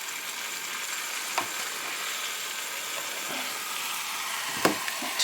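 A spoon stirs instant potatoes into a pot of clam chowder, giving occasional soft scraping knocks against the pot over a low, steady simmering hiss.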